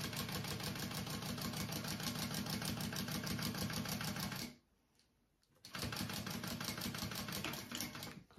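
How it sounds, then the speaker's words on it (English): A sewing machine stitches binding over mesh on a small fold-and-zip backpack, a fast, even mechanical rattle that stops briefly for about a second, then resumes at the same pace. "my mesh in between my two layers of my binding and sewing that on"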